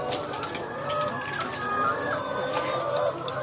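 Spent laying hens cluck and squawk continuously nearby in a busy flock, their calls overlapping with rising and falling pitches.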